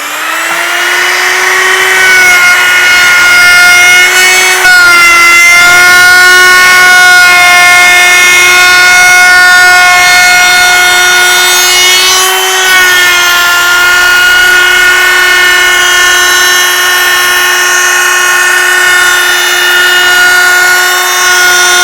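A loud, high-pitched whine from a Bauer compact router at about 21,000 RPM cutting a roundover in wood runs steadily throughout, with strong harmonic overtones and brief dips in pitch as it bites.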